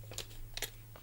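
Scissors snip paper for a planner in two quick crisp cuts, close and fairly quiet over a low steady background hum, with a lighter trailing snip at the end.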